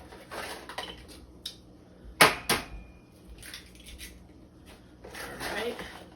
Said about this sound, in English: we're going to put 3 eggs in here